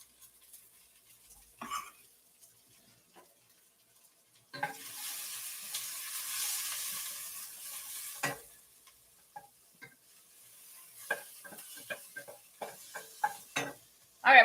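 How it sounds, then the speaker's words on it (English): Garlic hits a pan and fries with a steady sizzle for several seconds, followed by scattered ticks and scrapes as it is stirred, all fairly quiet with no talking. "I'm going to throw my garlic in."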